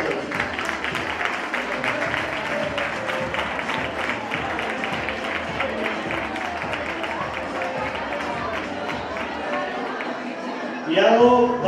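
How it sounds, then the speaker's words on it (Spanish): Audience at a children's carnival costume contest in Chillón applauds and cheers steadily, a dense crowd texture with chatter mixed in and a brief whistle-like burst near the end. "Un fuerte aplauso."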